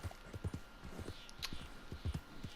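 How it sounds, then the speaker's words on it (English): Horse hooves clip-clop in the Red Dead Redemption 2 game, a faint, steady rhythmic patter of soft thuds at a walking pace. "I love the sound of the horse, by the way."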